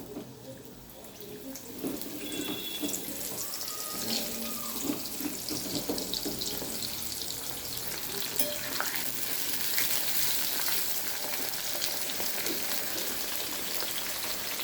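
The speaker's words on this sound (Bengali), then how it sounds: "এবার দিয়ে দিচ্ছি পটল।" Sliced pointed gourd (potol) fries in hot oil in a home kitchen after potatoes, giving a steady broadband sizzle with occasional stirring scrapes, close up and continuous throughout.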